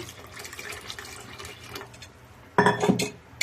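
Water splashes and pours briefly into a metal pot near the end, after a few seconds of low kitchen background noise.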